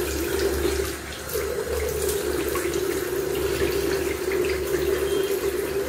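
Tap water runs steadily into a bathroom sink while a face is rinsed during an evening skincare routine, a continuous close splashing flow with no talk.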